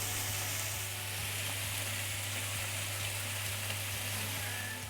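Chicken pieces for coq au vin searing in a hot pan, a steady broadband sizzle that holds constant throughout, moderately quiet and close with no talking.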